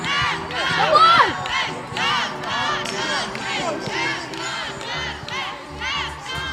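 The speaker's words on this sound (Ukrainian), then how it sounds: "Дорогі наші вболівальники, ми чуємо вашу підтримку." A large crowd of football fans at a cup match cheers and chants loudly and continuously, with shouts rising over the roar.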